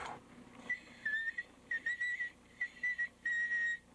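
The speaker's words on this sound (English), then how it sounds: "Listen to that kid whistle." A child's whistled tune played back on a dictation recording machine: a series of short, clear, high whistled notes in bursts with brief gaps, thin and slightly boxy, with no talking.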